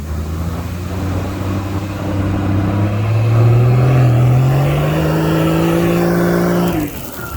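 A 4x4's engine revs hard and steady while bogged in soft beach sand, its droning pitch climbing slowly before cutting off abruptly near the end, loud and close with no talk.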